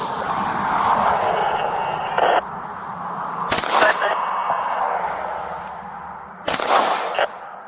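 Three sharp, loud gunshots ring out during a police shootout, spaced a few seconds apart over a steady background of noise and voices.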